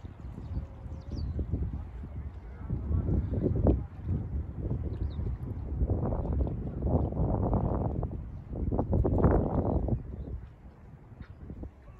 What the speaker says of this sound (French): Vous entendez, il y a du vent.